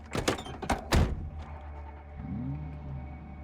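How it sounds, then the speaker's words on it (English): A car in the video game Project Zomboid gives a few heavy thunks, then its engine catches and settles into a low, steady idle. "So the car can get started."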